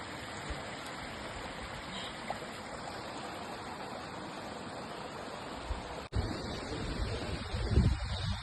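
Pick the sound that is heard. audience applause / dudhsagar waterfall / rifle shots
dudhsagar waterfall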